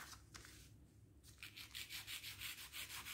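Charcoal stick rubbed against sandpaper to grind powder, a soft rhythmic scraping that grows into regular back-and-forth strokes, close but fairly quiet.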